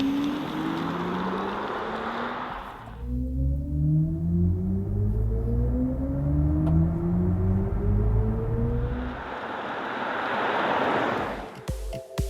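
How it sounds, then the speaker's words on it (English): A BMW iX3 electric SUV drives along with a steady broad road roar and a faint rising electric motor whine, alone with no talk, swelling and easing over its length. "Join us for a driving review of the new BMW iX3, the electrified X3."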